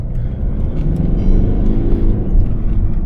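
A Mercedes-Benz C-Class W204 engine rumbles and builds steadily as the car accelerates, heard from nearby with a continuous low drone.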